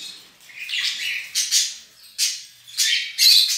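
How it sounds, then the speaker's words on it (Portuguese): Harsh budgerigar and pink Bourke's parakeet squawks and chirps in repeated bursts, close and fairly loud, with short pauses between calls and no talking. "vocês já viram os dois periquitos australianos e o periquito Burke rosa"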